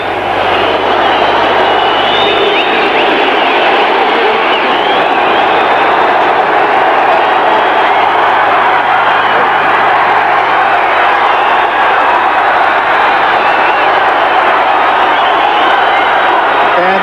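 A packed stadium crowd of about 41,000 at a 1985 USFL football game between the Bandits and the Generals keeps up a steady, loud roar from start to finish, with no breaks.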